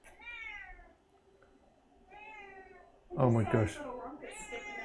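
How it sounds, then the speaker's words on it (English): A cat meows repeatedly indoors during a lecture, giving several drawn-out, fairly close calls, and a person reacts aloud partway through. "Okay, there's a cat."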